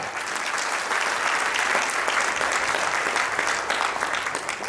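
An audience breaks into loud, continuous clapping during a motivational success talk in Haryana, a thick, even roar of many hands that holds steady from start to finish.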